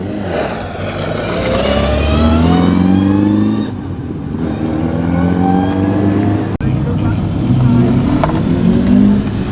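Classic rally cars pull away at Oulton Park circuit during the Tour of Cheshire, engines rising and falling in pitch as each one drives off past, fairly close and loud, with commentary talk over the top.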